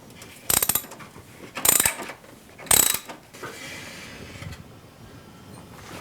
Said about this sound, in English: using a 12mm socket, we will loosen that up.